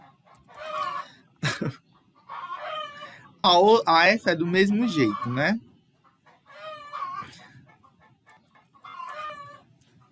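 Chickens cluck and a rooster crows loudly in a yard, with repeated clucking before and after the crow while a voice talks over the birds.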